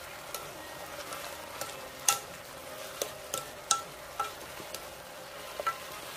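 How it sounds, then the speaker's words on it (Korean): Mud snails, king oyster mushrooms and vegetables stir-fried in a pan, with a steady soft sizzle broken by sharp scrapes and clicks of the utensil at irregular intervals, close and moderately quiet, with no talking. "이렇게 볶아주세요"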